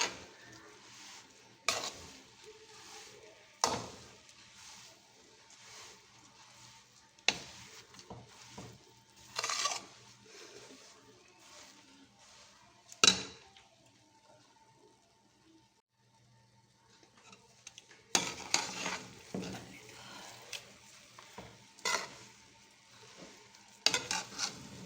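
Besan panjiri is stirred with desi ghee in a pan: repeated scraping strokes of a spoon against metal come in bursts over a faint, steady sizzle, close up with no talking.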